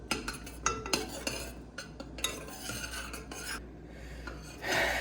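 Metal spoon scraping and stirring a thick, pudding-like mixture in a pot on a hot stove, with repeated close scrapes and clinks in an uneven rhythm, over a steady low hum.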